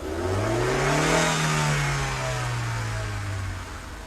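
A car engine revs up as the gas pedal is pressed longer, its note rising and then slowly falling back while the car sits on a roadside in pouring rain; loud and steady throughout, with rain-like noise underneath.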